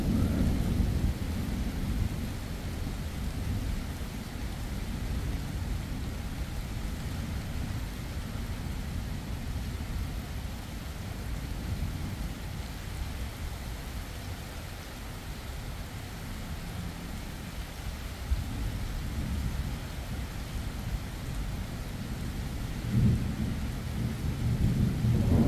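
A strong summer thunderstorm: steady heavy rain and deep rolling thunder rumbling almost continuously, loud and close, with a brief sharper knock near the end and no one speaking.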